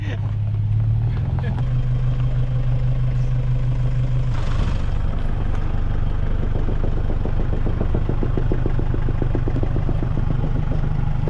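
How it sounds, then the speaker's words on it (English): A car engine with bearing knock idles steadily and loudly nearby, a droning hum that shifts partway through into a rapid rhythmic knocking tick over the running motor. "Bearing knock."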